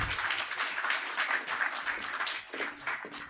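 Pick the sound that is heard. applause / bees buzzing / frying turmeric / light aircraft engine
applause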